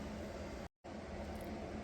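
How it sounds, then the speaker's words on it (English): A steady mechanical hum of a dehumidifier running in a basement, even and continuous, briefly cutting out for a moment before resuming. "The dehumidifier is kicked on."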